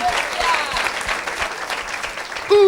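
Audience at a French-speaking evangelical gathering clapping steadily for Jesus, a dense close applause with some voices and a brief cheer near the end.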